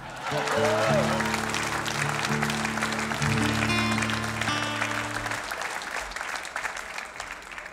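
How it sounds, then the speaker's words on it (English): Audience applause at a live music show, with a crowd clapping steadily under sustained musical tones from the stage, the clapping lingering after the music stops. "A big round of applause, if you would"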